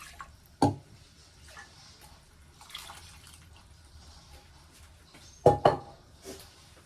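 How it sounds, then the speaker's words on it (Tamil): Water poured into a pot of cooked dal in a home kitchen, two short splashing bursts a few seconds apart, near and fairly loud against quiet room background. "இது கூடயே இன்னும் கொஞ்சம் தண்ணி சேர்த்துக்கிறேன்."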